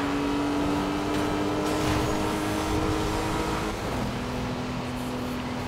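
McLaren supercars racing in Need for Speed Rivals, their engines droning steadily at high revs with a sustained roar, a pitch shift midway as gears change, loud and continuous throughout.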